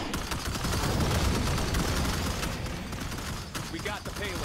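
Dense gunfire from the sci-fi strategy game Starship Troopers: Terran Command, a sustained crackling fusillade of rapid overlapping shots with radio-style voices over the battle.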